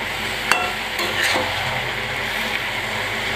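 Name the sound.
stirring bottle gourd in a frying pan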